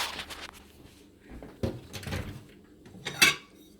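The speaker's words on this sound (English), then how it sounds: "And just going to get a plate." A plate is taken out after cooking, with a few clinks and knocks of dishes and a cupboard or door, ending in a sharp ceramic clatter, close by and without talking.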